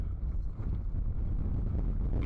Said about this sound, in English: Very, very windy day here in the north coast of Durban today.